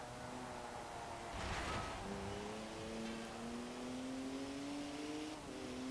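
A 2019 BMW Z4 being driven in the video game Forza Horizon 4, its engine note climbing steadily through the gears with a shift partway through, heard fairly quietly and without talk.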